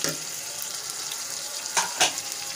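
Chopped tomato and green chili frying with canned tuna chunks over high flame, a soft steady sizzle with a couple of brief clinks or stirring scrapes near the end, no talk.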